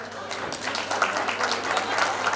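A crowd applauds at a school batch reunion gathering in Bhuj, with many hands clapping in a dense, even patter. The sound is moderately loud and fairly close, and the clapping stays steady throughout.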